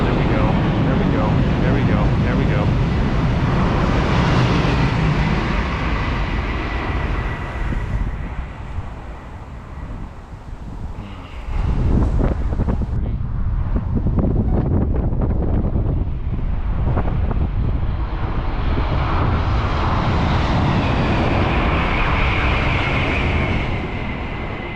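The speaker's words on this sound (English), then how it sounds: "Bullet train." A loud, sustained rushing roar of a high-speed bullet train sweeping past nearby in Waegwan, Korea, swelling and fading, with wind buffeting the microphone and some talk over it.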